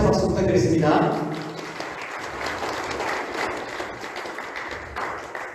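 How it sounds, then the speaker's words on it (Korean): A lecture audience applauds in a hall, a dense burst of clapping that swells at the start then settles into steady, fading applause while a voice speaks over it. "한 번 더 힘찬 박수 부탁드리겠습니다"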